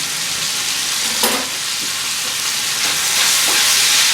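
Bacon and onions sizzle steadily in a pan, a loud continuous frying hiss with a few brief clinks and scrapes of stirring, no voices.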